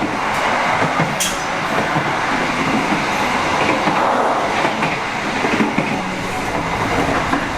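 Steady rumbling rattle and clickety-clack of a moving executive-class passenger train in Indonesia, heard from inside a carriage on the Jakarta to Malang route, continuous and fairly loud with brief squeals, no talking.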